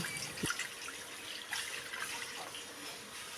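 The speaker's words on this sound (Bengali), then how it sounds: "এবারে একটা কড়াই বসিয়ে দেব জল" Water splashes and pours steadily into a metal kadai, a continuous running gush with a brief clink near the start.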